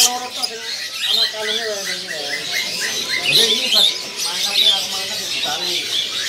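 Zebra doves, perkutut, call at a bird kiosk among many other chirping and squawking caged birds, in a dense, continuous chorus with a voice heard speaking.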